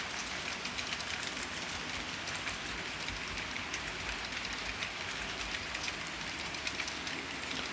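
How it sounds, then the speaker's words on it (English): Model train running around a toy train set track, a steady continuous rolling rumble and clatter with a hiss, moderately loud and unbroken throughout, no talking. "so here comes a different train"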